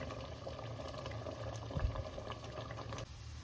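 Sweet potato halwa bubbles quietly in a pan, soft low plops and gurgles under a faint steady simmer, with one louder burst near the middle before the sound thins out.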